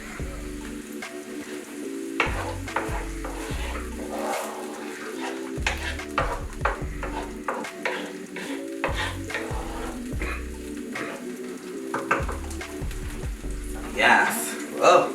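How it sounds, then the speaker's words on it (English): Rice sizzles and crackles in hot oil while a utensil stirs and scrapes the pan in uneven bursts, with occasional clatter. "as we're sauteing, you hear that oil getting hot"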